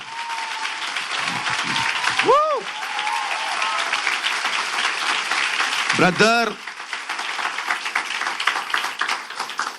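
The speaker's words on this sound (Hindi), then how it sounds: "एक ताली अपने पेरेंट्स के लिए बजाओ।" An audience at a Christian ministry gathering applauds their parents with a thick, sustained wash of clapping, while a speaker's voice cuts in briefly twice over the ongoing applause.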